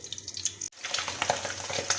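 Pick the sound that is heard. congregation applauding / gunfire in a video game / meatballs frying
meatballs frying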